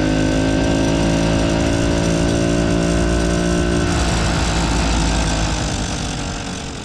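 A small two-stroke Solex moped engine runs loudly and steadily nearby with a buzzy, mower-like drone, then its pitch shifts and it gradually fades.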